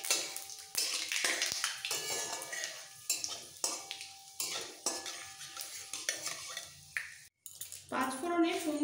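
Panch phoron spices, heavy on fennel seed, frying in a pan: repeated close scraping strokes of a spatula against the metal in an uneven rhythm over a faint crackling sizzle.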